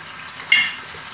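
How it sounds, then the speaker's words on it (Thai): A short burst of sizzling as fish drops into hot oil in a pan, a bright hiss that flares and then settles into a steady crackle. "ตั้งกระทะพอน้ำมันของเราพอร้อนนะคะก็ใส่เนื้อปลาลงไปค่ะ"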